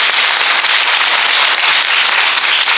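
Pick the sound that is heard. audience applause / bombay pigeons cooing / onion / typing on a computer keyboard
audience applause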